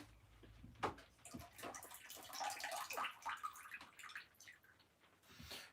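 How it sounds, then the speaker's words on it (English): Water is poured out of a plant seed tray, a quiet irregular splashing and dripping with scattered trickles and a gurgle, close by and faint, with no talking. "I have to pour the water out here actually."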